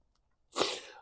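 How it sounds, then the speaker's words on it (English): A single close sneeze after a moment of near silence, a sudden breathy burst that trails off quickly. "I'm going on a sneezing sesh for"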